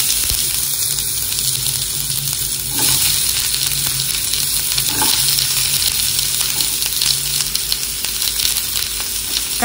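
Chopped onion, ginger and garlic hitting hot oil in a pan, giving a steady loud sizzle throughout with occasional stirring scrapes, and no voices.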